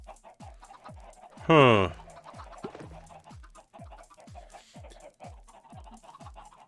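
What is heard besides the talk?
chickens clucking in Minecraft video game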